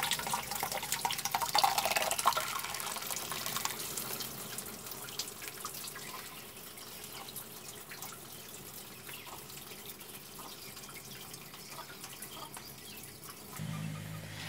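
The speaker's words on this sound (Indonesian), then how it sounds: "Ini untuk nyaring, untuk misalkan air sama limbahnya ya," Water and palm oil processing waste strained through wire mosquito mesh, a steady trickling and dripping wash of liquid that stays fairly soft and continuous throughout.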